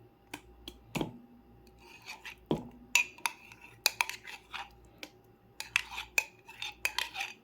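A spoon scraping butter out of a cup into a bowl makes sharp, intermittent clinks and scrapes against the cup, loud and close, with no talk.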